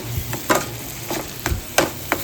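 Chopped onions and tomatoes frying in a pan for pav bhaji, a soft background sizzle broken by about six sharp scrapes and clatters of a spoon stirring against the pan, close and without talk.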